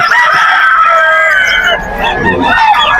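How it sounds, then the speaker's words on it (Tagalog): Several roosters crow loudly and overlapping, with clucking chickens and a babble of people talking in a busy, crowded pet market in Bocaue, Philippines. "Ang daming manok dito ngayon sa Bukawi Pet Market."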